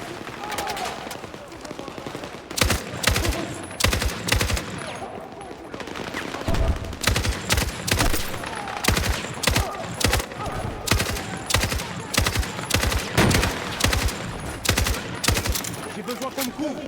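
Battlefield 6 gunfire with rapid machine-gun bursts and repeated sharp shots crackling loudly at an irregular rhythm across the whole stretch, with voices speaking intermittently amid the fire.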